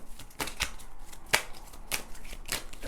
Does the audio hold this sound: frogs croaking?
no